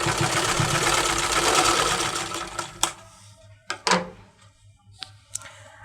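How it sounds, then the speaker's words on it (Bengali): A sewing machine runs steadily as it stitches the side seam of a blouse, a fast continuous mechanical whir for a few seconds, then stopping and giving way to a few short, sharp clicks and taps. "আরও একটা সাইড আমি এভাবে করে সেলাই করে নিচ্ছি"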